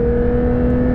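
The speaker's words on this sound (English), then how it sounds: "Oh, you've got a beautiful wail from the engine." A Porsche GT3 engine revs hard on an open road, making a loud, sustained, steady wail at close range with no talk over it.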